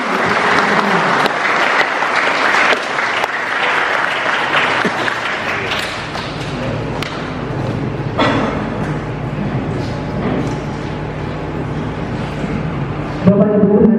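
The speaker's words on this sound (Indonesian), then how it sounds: "kita berikan tepuk tangan" Applause from the audience at a religious outreach and counseling event at Ciamis prison, loud and dense at first, then thinning into scattered clapping with some talk and room noise.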